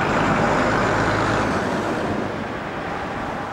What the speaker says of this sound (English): Similar vehicle but a little bit smaller is a Leyland Cub, Doncaster 33, again at the Central Transport Centre.